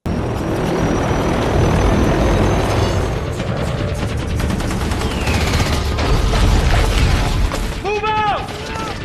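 Helicopter rotors drone loudly through a film battle scene while bursts of gunfire and booms crackle around it, a dense continuous din with voices shouting briefly near the end.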